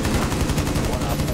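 Rapid, sustained light machine gun fire in Rainbow Six Siege rattles loudly and continuously in a fast, even rhythm of closely spaced shots, filling the whole short burst.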